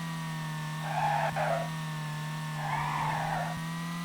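Tires squeal in two long drifting skids in the racing game Little Laps, each lasting about half a second over a steady engine drone.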